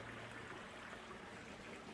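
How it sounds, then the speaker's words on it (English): A small stream flows under a bridge, a faint, steady trickle and wash that holds evenly throughout with no voices. "right now I just stopped for lunch at this little stream"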